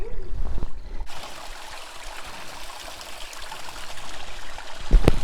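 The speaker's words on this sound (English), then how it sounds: "Water, I think I can see something trickling down the side of that rock." Water trickles down the side of a rock on a dry hillside walk near Carding Mill; after a brief thump, a faint, continuous, hissing trickle runs alone with no talk, ending in a couple of sharp knocks.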